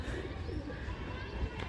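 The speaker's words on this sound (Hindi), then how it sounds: "दो कबूतर है इस बंदे के पास" Pet pigeons on a rooftop, one a Chinese-type hen and one a red Chinese-type cock, cooing softly in a low murmur beneath faint background noise.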